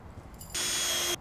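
A power drill drives a screw to join wooden parts, one short burst of whirring lasting about half a second, close and fairly loud after a quiet pause.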